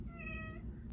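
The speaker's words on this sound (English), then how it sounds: "his method of knocking is meowing" A cat meows at a closed door, one drawn-out, faint call heard alone in a quiet room.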